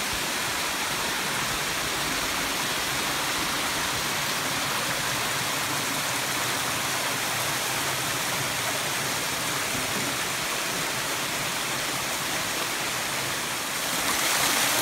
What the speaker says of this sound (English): along the stream. And another beautiful little waterfall.